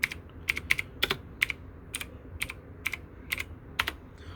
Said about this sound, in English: just type control panel right in the search box